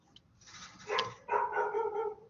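A dog barks outside a window, two or three short sharp barks and yelps heard at a moderate distance with quiet room tone around them.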